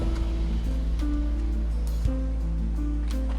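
Steady rushing of flowing hot spring water on the Kauri Pass trek fills the scene, a constant close wash with low rumble and faint tonal hum underneath.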